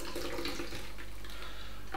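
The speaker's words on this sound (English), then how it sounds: "Decant. If you get the top off, yep. Well done. Pour it into there." A Floradora cocktail is poured from a shaker into a glass, a steady close liquid rush that runs without a break for the whole two seconds.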